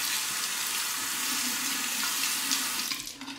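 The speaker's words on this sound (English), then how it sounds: "Let's rinse it." Running tap water rinses a Merkur 20B safety razor at a sink, a steady close rush of splashing flow that continues throughout and eases slightly at the end.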